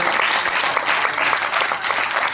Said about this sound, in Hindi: एक बार जोरदार तालियों से उसका स्वागत करिए